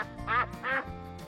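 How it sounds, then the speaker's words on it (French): Two loud, nasal duck quacks in quick succession from ducks on a small pond, close by, with a fainter third call trailing off at the end. "Dans un petit étang, un groupe de canards nageait joyeusement, éclaboussant dans tous les sens."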